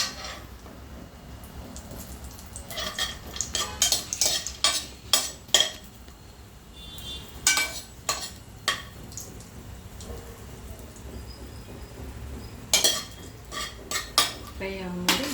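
Cashews roasting in ghee in a pan, stirred with a metal spoon that clinks and scrapes against the pan in irregular bursts, over a faint, low sizzle.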